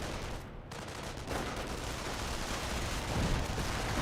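Mortar and artillery fire in Company of Heroes, a dense stretch of thudding shell impacts and crackling gunfire layered into constant loud battlefield noise, with no voices.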